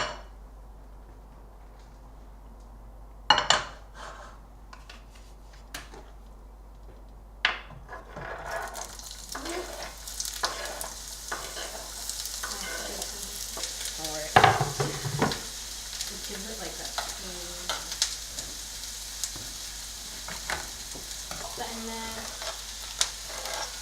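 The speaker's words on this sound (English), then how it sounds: "we'll pop the onions and the tomatoes in there just to fry them, get them to saute a bit" Onions and tomatoes frying in a pan for a South African dish, a steady bright sizzle with occasional sharp clatters of stirring, growing denser and busier after the first few seconds.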